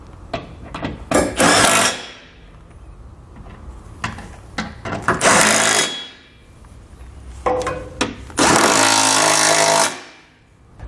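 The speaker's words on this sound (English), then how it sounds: "I'm going to grab a 17mm socket and we're going to tighten up all the hardware that we just installed." A ratchet with a 17mm socket tightens trailer hitch bolts on a 2012 Toyota Venza, loud bursts of rapid clicking in three main runs separated by pauses, close by.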